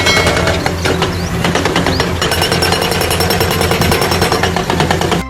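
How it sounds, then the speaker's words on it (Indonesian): Toy excavator with a rock breaker attachment makes loud, continuous rapid mechanical hammering and clatter, a busy steady din with electronic tones running throughout and no voices. "ini ekskavator pemecah batu"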